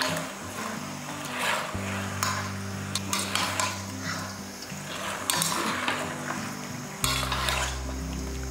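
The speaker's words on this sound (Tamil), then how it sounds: "பாருங்கள், இந்த மாதிரி நல்லா வதங்கிட்டு இருக்கும் போதே" Chicken sautéing in a pan for home-style chicken gravy, with a steady close sizzle broken by repeated scrapes and clinks of a utensil stirring against the metal pan, with low background hum throughout.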